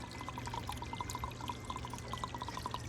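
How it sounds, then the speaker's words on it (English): Worm tea is poured back into an aquaponic system, a continuous close trickling stream with rapid bubbly gurgles throughout. "I'm going to pour it back up here where the microbe should be"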